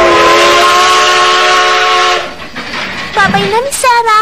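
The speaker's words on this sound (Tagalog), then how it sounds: "Malapit na umalis itong tren." A departing train sounds a long, loud steady whistle for about two seconds, then rolling rail noise and a short second whistle blast follow as voices call out over it.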